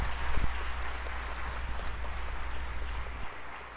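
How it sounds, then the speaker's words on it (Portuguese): Applause for Our Lady at a Catholic religious gathering, a steady dense wash of clapping that holds evenly, then eases slightly near the end, with no voices over it. "Aplaude com força."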